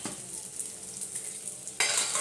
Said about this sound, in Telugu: ఇప్పుడు ఈ గోందు వేసేస్తున్నాను